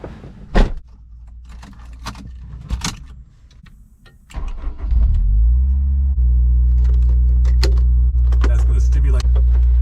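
A car engine fitted with a Tomei test pipe cranks over partway through and settles into a loud, steady, deep exhaust rumble at idle, after a few earlier clicks and door or key handling noises.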